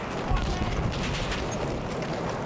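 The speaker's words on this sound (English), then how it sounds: "Mortars are firing at us" Mortar fire in Battlefield 1 on Monte Grappa: heavy, rumbling booms and crackling gunfire blend into a loud, continuous battle din, with voices underneath.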